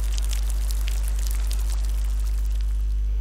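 Rain as a storybook sound effect, a soft continuous hiss of falling drops over a steady low hum, ending abruptly, with no voices.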